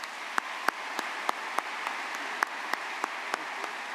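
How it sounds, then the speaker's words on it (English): Clapping from a university spring commencement audience at BGSU in 2019, heard as a steady, moderately distant wash of applause with sharper individual claps standing out at regular intervals. "Please give these individuals a round of applause."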